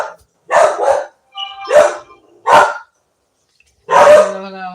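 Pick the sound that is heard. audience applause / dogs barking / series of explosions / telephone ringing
dogs barking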